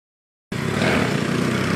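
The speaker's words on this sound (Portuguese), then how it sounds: "Passou aqui uma moto agora, fazendo barulho, essas descargas alteradas." Motorcycle with a loud modified aftermarket exhaust passing close on a town-centre street, a steady rough engine roar that starts abruptly and holds at full loudness.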